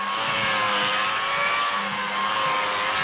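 An electric polisher runs at slow speed on a car's bodywork while spreading polishing product, a steady, even motor whine holding constant throughout.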